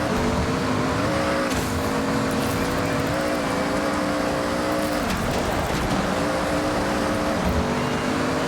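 A car engine drones loudly and continuously during a Forza Horizon 6 rally race, a steady revving tone with slight pitch shifts and no talk over it.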